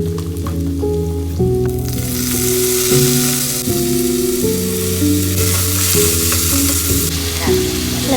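Onions frying in a pan on a home stove, a continuous close sizzle and crackle with a musical tone ringing over it, no talking.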